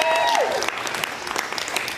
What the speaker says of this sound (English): One more round of applause for the cast.